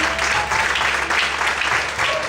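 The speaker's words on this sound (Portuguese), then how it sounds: "Pode aplaudir, exaltar ao Senhor." Sustained applause from a church congregation fills the space, a dense steady wash of many hands clapping without pause, fairly loud and close, with faint voices mixed underneath.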